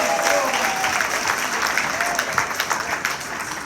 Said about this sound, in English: You got to give them a big round of applause.